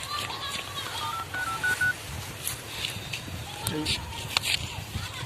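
A short run of telephone keypad tones at the start, then faint beeps over low background noise and distant voices.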